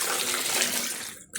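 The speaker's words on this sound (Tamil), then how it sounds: "தண்ணி ஊத்துறாசா." Water pours steadily with a full, rushing splash, close by, while street-style veg biryani is cooked, then briefly cuts off before resuming.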